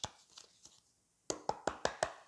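A deck of oracle cards is shuffled by hand: a few soft rustles, a short silence, then five sharp, evenly spaced riffling snaps close by.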